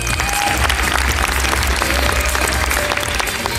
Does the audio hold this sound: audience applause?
yes